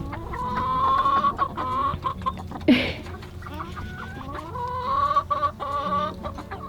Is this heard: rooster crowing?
yes